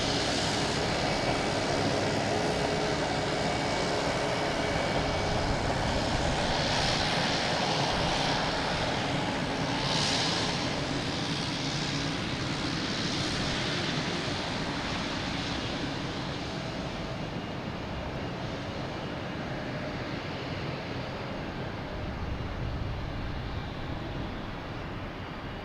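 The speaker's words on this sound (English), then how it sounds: "coming in with JetBlue from Dallas Fort Worth" JetBlue Airbus A220 jet arriving at Boston Logan Airport from Dallas Fort Worth, a steady distant engine roar and rushing whine that holds throughout and slowly fades slightly, with no talk.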